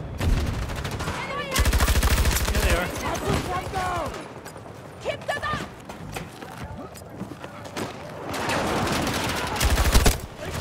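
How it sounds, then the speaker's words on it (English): Gunfire in the shooter Battlefield 2042 crackles in loud rapid bursts, with machine-gun volleys at the start and end and scattered shots between, while players talk excitedly over it. "Oof, nice shots."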